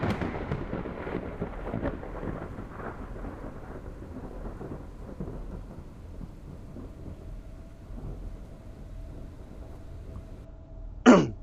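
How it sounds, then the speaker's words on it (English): Thunder from a lightning storm rumbles low and broad through the first several seconds, easing into a quieter steady wash, then a sharp loud crack bursts near the end. "How exactly is there lightning going on anyway?"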